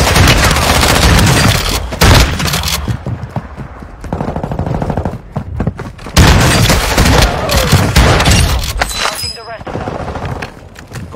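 Loud, rapid gunfire and booming explosions in Call of Duty Warzone on the Vondel map, including shotgun blasts, pound almost continuously, with voices talking over the battle.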